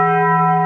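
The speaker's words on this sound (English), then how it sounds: "That's the notification bell in case you were a little confused by that." A notification bell sound effect gives a single loud, sustained ringing tone with steady overtones, heard alone with no talk and cut off abruptly.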